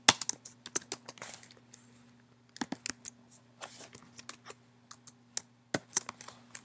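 Code being typed on a computer keyboard comes through as quiet, close, irregular bursts of key clicks with short pauses between flurries.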